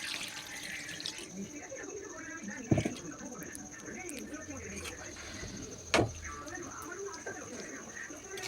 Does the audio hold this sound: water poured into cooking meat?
yes